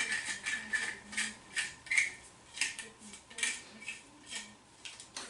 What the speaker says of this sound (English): Has a handle that screws in.